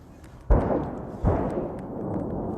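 Heavy artillery shelling a city in Ukraine, heard as two deep, sharp booms about three-quarters of a second apart, each followed by a long rumbling tail over a low background.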